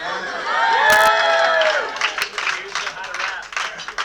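Rehearsal dinner guests break into brief applause, a burst of clapping and cheering that tapers into scattered claps while people talk.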